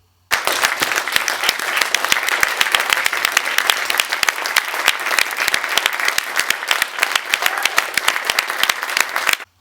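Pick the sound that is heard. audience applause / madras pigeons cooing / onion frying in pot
audience applause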